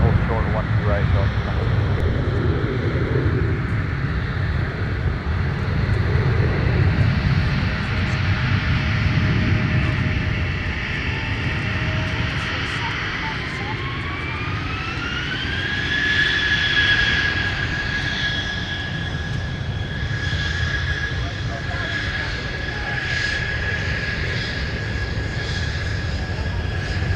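A jet airliner powers up and takes off from runway 17 at Minneapolis–St. Paul airport in winter, a loud, sustained engine roar with a rising whine, while a radio voice talks over it.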